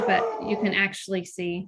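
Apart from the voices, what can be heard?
dog barking and whimpering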